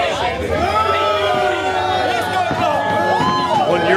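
A wrestling crowd at an indoor IWA battle royal event cheers and chatters steadily, a dense, loud roar with whoops and shouts rising throughout, and a commentator talks over it.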